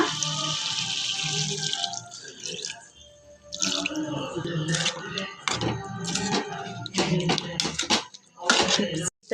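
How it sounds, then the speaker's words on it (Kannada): Water pours into a pan of frying chicken for a pepper dry dish, a close, steady splashing rush with a gurgling trickle, broken by short pauses and scraping near the end. "ಸ್ವಲ್ಪ ನೀರು ಹಾಕಿ ಕುದಿಸ್ಕೊಳ್ಳೋಣ"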